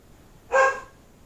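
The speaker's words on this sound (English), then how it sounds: "What are you barking for, sweetheart? What are you barking at?" A pet dog indoors on a blustery, rainy day gives a single loud, close bark at the mail carrier, then quiet.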